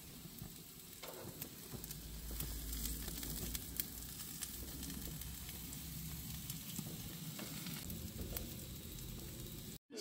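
Meat sizzles steadily on a grill, a constant crackling and hissing at moderate volume for about ten seconds, with small pops scattered through it and no talking.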